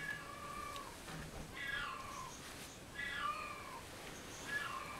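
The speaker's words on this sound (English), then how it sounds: "Yes, yellow cat." A yellow cat meows repeatedly, three drawn-out, wavering calls spaced about a second and a half apart, faint and alone against a steady background hiss.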